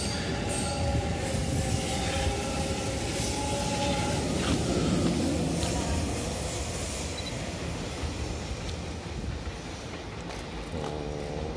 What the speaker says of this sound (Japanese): 2番線列車が動いております。